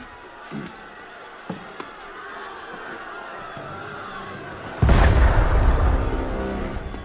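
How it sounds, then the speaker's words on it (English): A sudden loud cannon boom in Assassin's Creed Unity erupts near the end after quiet murmuring, leaving a heavy rumbling roar that lingers and slowly fades. "That was cannon fire."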